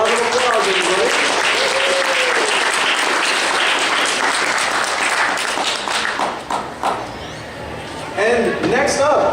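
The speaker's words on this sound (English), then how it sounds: "Round of applause, everybody." Sustained crowd applause at a Kraken Con 2014 costume contest, loud and dense for most of the stretch, thinning briefly before swelling again, with a voice talking over it at the start and near the end.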